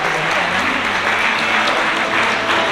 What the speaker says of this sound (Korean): 하객 여러분께서는 따뜻한 큰 박수로 맞이해 주시기 바랍니다.